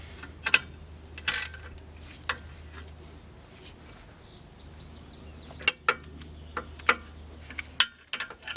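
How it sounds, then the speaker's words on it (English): Sparse metallic clicks and ticks from a ratchet snugging brake bolts on a 1988 BMW 325i during a brake job, scattered irregular bursts over a low steady hum, close and moderately loud, with no talking. "Just getting them finger tight, and then I'll use the ratchet to finish it off"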